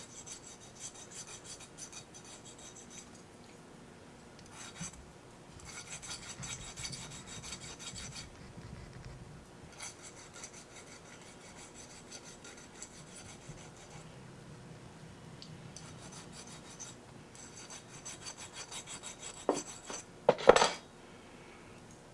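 A hand file rasps a burr and sharp edges off a metal rail of a model railroad turnout, producing repeated scraping strokes in bursts with short pauses. The sound is close but fairly quiet, and a louder clatter comes near the end.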